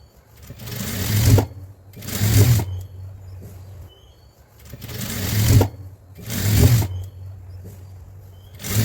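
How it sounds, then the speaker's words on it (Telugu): Sewing machine stitching the hem and sides of palazzo pants, running in four loud bursts of rapid whirring separated by short pauses. "అలాగే రెండు వైపు కూడా అలా స్టిచ్ వేసుకోవాలి."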